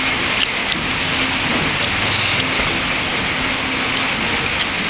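Steady rain pours down in a dense, continuous hiss with no one speaking.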